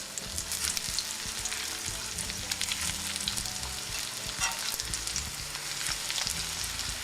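Eggplant slices fry in oil in a pan for layering into a lasagna, giving a dense, continuous crackling sizzle at fairly close range with brief stirring or shifting noises underneath.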